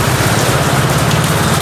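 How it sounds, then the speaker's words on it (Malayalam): Heavy rain pours down steadily in Kerala during a birthday celebration, a loud, dense, continuous hiss of falling water with no pauses and no voices. "അത്യാവശ്യം നല്ല മഴ തന്നെ."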